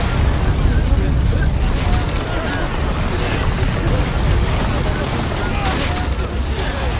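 Explosion in a Soul Land donghua battle scene, a sustained deep rumbling roar with heavy low-end blast noise that holds steady and loud without a break.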